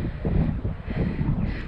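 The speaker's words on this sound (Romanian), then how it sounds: "bate vântul" Strong wind buffets the microphone on a snowy hilltop above a half-frozen lake, a steady low roar with gusty swells and no speech.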